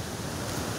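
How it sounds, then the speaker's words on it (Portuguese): Steady, loud rushing roar of water pouring down a rocky waterfall, a continuous broadband wash with no pauses or voices. "Olha essa queda dessa cachoeira."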